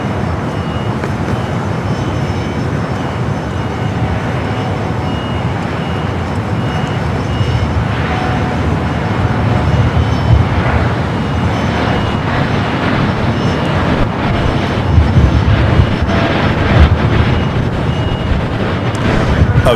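A Boeing 787-9 Dreamliner begins its takeoff roll down runway 25 right at LAX, a steady broad jet-engine roar holding at fairly constant loudness and swelling slightly toward the end, with no talk over it.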